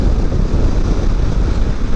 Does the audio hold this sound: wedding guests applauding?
no